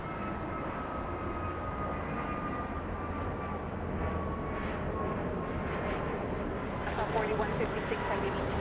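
An American Airlines jet takes off from runway 25 right, producing a steady, broad roar of engine noise that holds evenly throughout, with muffled voices underneath.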